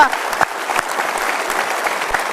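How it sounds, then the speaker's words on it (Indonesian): Large audience at an Indonesian motivational talk show applauding TNI soldiers, a continuous wash of many hands clapping with crowd noise mixed in, steady and fairly loud throughout. "Kita berikan tepuk tangan untuk Bapak-Bapak TNI luar biasa"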